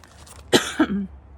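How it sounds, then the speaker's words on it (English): A single close cough, a sharp burst followed by a brief rough throat sound, then quiet. "I'm so sorry for coughing."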